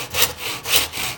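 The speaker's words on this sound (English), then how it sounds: "build up more of a sawing rhythm on that" A hand saw cuts through a piece of wood in a steady back-and-forth rhythm, with two long rasping strokes, close and loud, and no talking.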